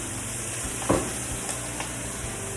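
Onions frying in a pan, a steady soft sizzle with a few brief scraping stirs, close and fairly quiet, no talking.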